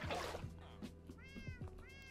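Minecraft cats meow several times, short rising and falling cries following one another in quick succession over a soft background trickle.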